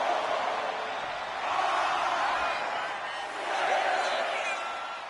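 A large wrestling arena crowd cheers and roars continuously, swelling twice in loud broad waves from many distant voices, under a faint announcer-like voice.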